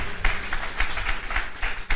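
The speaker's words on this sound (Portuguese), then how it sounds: "Pode aplaudir a palavra do Senhor" Church congregation clapping, a brief run of scattered, uneven hand claps and taps at moderate volume with no clear rhythm.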